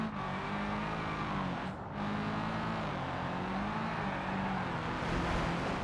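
A car engine drones and revs steadily as tyres scrub through a handbrake turn in the BeamNG driving game, a loud, continuous mechanical hum with a brief dip partway through and no talking.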